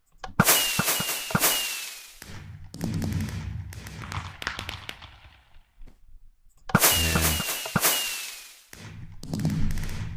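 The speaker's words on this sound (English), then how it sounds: "So I set up this button, the fireworks show." A Minecraft fireworks show set off from dispensers by a button: bursts of sharp launches and crackling pops arrive in two clustered waves, each fading into quieter sparkle between volleys.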